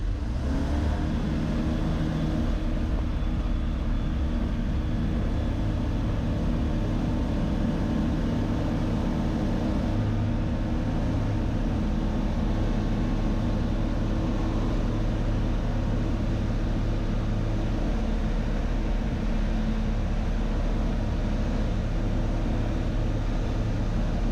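EV-97 Eurostar microlight aircraft on its takeoff run, a steady loud propeller-engine drone with heavy low rumble and wind noise filling the cabin continuously, no talk.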